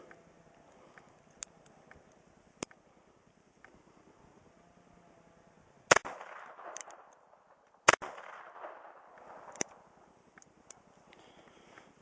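A Cobra .22LR derringer fired outdoors, with two sharp, loud shots about two seconds apart and faint clicks and handling noises around them, with no talk.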